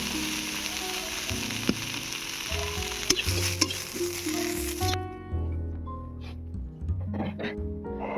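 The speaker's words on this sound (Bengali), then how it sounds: "সব শেষে ভেজে নেবো মূলো শাক। মূলো শাক ভাজা হয়ে গিয়েছে," Radish greens sizzling in a pan, with a few utensil knocks and scrapes, then the frying noise drops away sharply midway, leaving quieter scraping and handling sounds; no speech.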